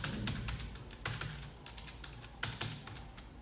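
A price is keyed into a computer keyboard as a quick series of close, crisp keystrokes in irregular clusters with short pauses between them.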